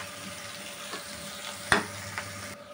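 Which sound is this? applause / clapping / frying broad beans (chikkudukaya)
frying broad beans (chikkudukaya)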